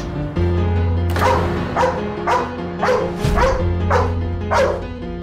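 A dog barks repeatedly at close range, about seven sharp barks in an uneven rhythm over a steady low hum.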